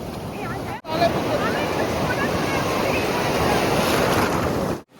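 Sea waves roll and crash at Puri beach, a loud, continuous roar of surf mixed with gusty wind buffeting the microphone, briefly cut off near the start and end.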